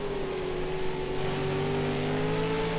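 A MOS Australia V8 race car roars steadily at Road America, a sustained, loud engine drone with a slowly rising pitch and no pause, heard without voices.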